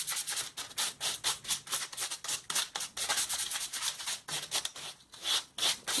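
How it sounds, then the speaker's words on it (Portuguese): Sandpaper rubs against wood spinning on a lathe during finishing, a close rhythmic rasping with quick repeated strokes and brief gaps between passes. "isso é uma boa dica que a lixa está funcionando, tá cortando"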